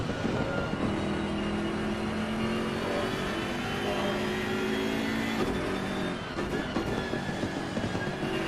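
BMW GT3 race car engine in the sim racing game Assetto Corsa Competizione at Monza, a loud continuous engine roar that climbs and drops through gears in steady sustained runs with no voices.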